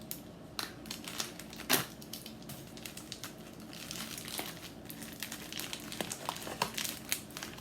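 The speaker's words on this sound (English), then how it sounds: "I'm gonna cut it with my knife" A knife slicing open a beauty subscription box package, with crinkly plastic and cardboard rustling in short, close bursts and a few sharp snaps, fairly quiet and continuous with no talk.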